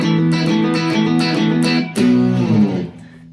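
An electric guitar plays a riff at full speed, a quick run of distinct picked and hammered notes with a brief pause near the end, loud, close and without talk.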